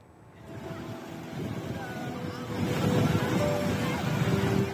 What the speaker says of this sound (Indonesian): Safina Azahra, warga Salawu, Tasikmalaya, tenggelam dan terseret arus ombak hingga 40 meter ke tengah laut di pantai barat Pangandaran